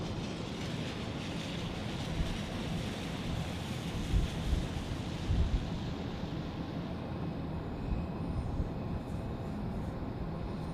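An Air Baltic airliner passes at Zurich Airport in light rain, a broad steady roar of jet noise mixed with wind, fairly distant and even, slowly thinning toward the end.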